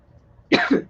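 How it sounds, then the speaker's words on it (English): A single short cough, close and fairly loud, in two quick bursts after a moment of near silence. "Oh, first cough."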